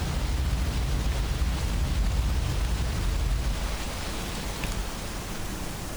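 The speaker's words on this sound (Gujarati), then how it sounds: "જાફરાબાદ શહેર સહિત ગ્રામ્ય વિસ્તારમાં ધીમી ધારે વરસાદ વરસી રહ્યો છે." Light rain falling steadily over Jafrabad town in Amreli's coastal area, a continuous broadband hiss with a low rumble, even and unbroken throughout, no voices.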